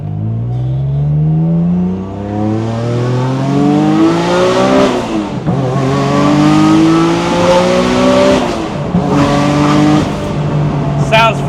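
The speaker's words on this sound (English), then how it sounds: "It is everything a turbo NSX should sound like." A 500 hp turbocharged Honda NSX with loud exhaust revving hard through several rising gear pulls, the engine note climbing and dropping at shifts, loud and close from inside the car.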